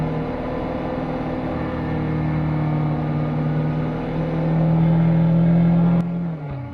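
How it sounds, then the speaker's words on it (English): A Kawasaki Versys motorcycle engine drones steadily and close, its pitch rising as the rider pulls away near Cumberland Gap, then cuts off abruptly near the end. "then get back on the bike and head out for a little bit more riding"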